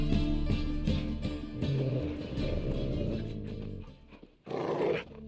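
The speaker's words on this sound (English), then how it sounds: "Just beware of the dogs." Dogs growl and snarl in a tense scene from The Witcher 3, a steady rumbling with barking bursts over a busy game soundscape, pausing briefly before one last loud snarl.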